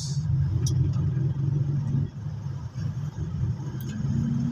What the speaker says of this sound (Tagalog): Maaga pa lang traffic na.